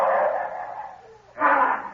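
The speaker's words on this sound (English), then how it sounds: "The dogs have got the shadow." Hounds tracking a scent in the hills give two loud, close bursts of baying barks separated by a brief quieter gap.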